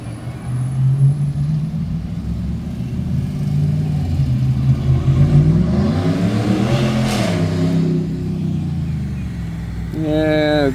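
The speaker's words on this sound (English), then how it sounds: "Yeah, gray Ram truck. Hot dogging it." A gray Ram pickup truck accelerates down the road, its engine rising and falling in a loud, steady rumble as it passes nearby, with a voice talking over it.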